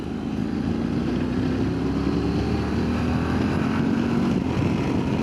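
Motorcycle engine droning steadily at speed under a continuous rush of wind buffeting the microphone, loud and close throughout with no pauses.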